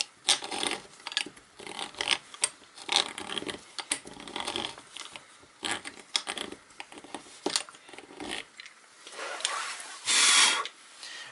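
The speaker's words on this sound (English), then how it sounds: "So you just drill the hole here." A small power drill whirs in short, uneven bursts, grinding and rasping as it bores a small hole for a model railway station sign, with pauses between runs and a higher whine near the end.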